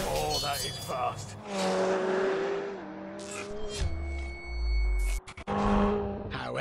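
A McLaren 720S sports car accelerates hard, its engine note climbing and then dropping through gear changes. A sharp cut-off and a brief burst follow, with the loud revving dominating the whole stretch.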